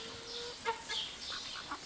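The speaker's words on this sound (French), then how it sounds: "Vous imaginez toutes ces poules?" Faint clucking and squawks from several chickens, short scattered calls over a quiet background hum.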